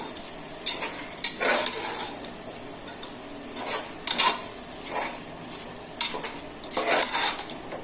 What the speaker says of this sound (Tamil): நல்லா மசாலாலாம் மிக்ஸ் ஆகிற மாதிரி இதை நல்லா கிண்டி விடுங்க.